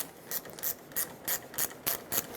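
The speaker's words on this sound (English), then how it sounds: "There's an 8mm mounting nut that holds this clamped on nice and tight, so loosen it up." A ratchet wrench loosening the 8mm nut on the negative battery terminal clamp of a Ford E-350, giving a quick run of about seven evenly spaced clicking pawl strokes, close and fairly quiet.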